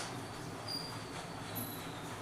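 A train runs with a steady, even rumble and rail noise that holds at the same moderate level throughout, with no voices over it.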